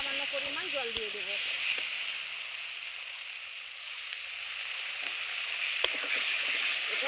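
Spice paste sizzles steadily in hot oil in a pan as a little water goes in, a continuous loud hiss and crackle with brief speech near the start, for a Bengali shola kachu (taro stem) curry.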